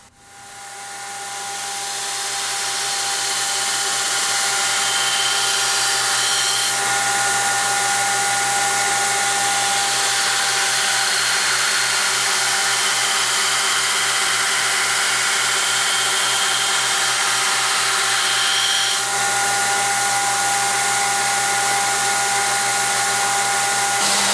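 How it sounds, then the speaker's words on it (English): A belt grinder fitted with a 40 grit ceramic belt grinds knife steel for a camp knife. A loud, continuous whine spins up at the start and holds steady, heard alone with no voices. "Now I'm grinding away using a 40 grit ceramic belt."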